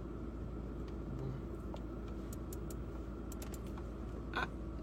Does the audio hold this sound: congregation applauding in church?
no